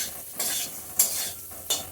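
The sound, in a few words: taro and fried pumpkin pieces sizzling in spices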